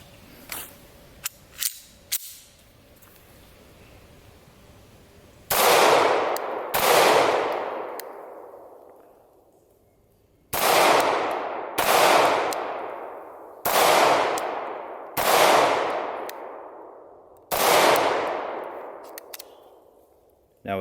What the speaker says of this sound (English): we're going to have a little bit of fun firing this pistol.